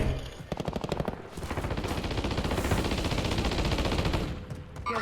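Rapid automatic gunfire in the video game Warzone, a dense, loud stream of shots, with a brief break before a sustained burst that runs almost to the end.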